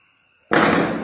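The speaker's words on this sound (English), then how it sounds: "You can hear the sound of bullets." Sudden burst of loud, rapid gunfire erupting out of near-silence during an attack on Kuje prison, the cracking shots dense and continuous to the end.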